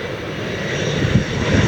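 Hawaiian Airlines flight arriving from Honolulu and landing at Lihue airport on Kauai, a steady loud airliner engine roar with low rumble that swells slightly toward the end, no talk over it.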